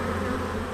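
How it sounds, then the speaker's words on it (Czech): A swarm of honeybees fills the air with a dense, steady buzzing drone in a spring city setting, loud and continuous throughout with no voices. "I tento včelí mrak na vás nicméně může na jaře číhat přímo uprostřed města."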